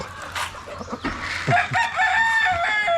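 Chickens cluck nearby on a small farm while a rooster crows loudly over them, several overlapping bird calls in quick succession, close and clear.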